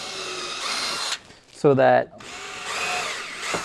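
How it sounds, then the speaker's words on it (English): A power drill pre-drills old, fragile 2x4 lumber for deck screws, giving one brief, close whine of about half a second between stretches of someone talking. "I'm pre-drilling these"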